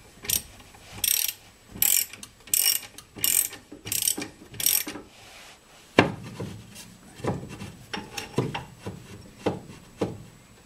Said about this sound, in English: you can see what it's like jacking it up off the ground. Let's just get it a bit higher first.